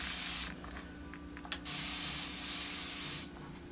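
Setting spray hisses from a pump bottle onto a face in two long, close bursts with a few short spritzes between them, loud and steady with no talk.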